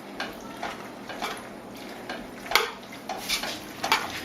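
Pesto pasta stirred together in a pan with oil, giving soft intermittent scrapes and clinks of the utensil against the pan, fairly quiet and irregular, with no talking.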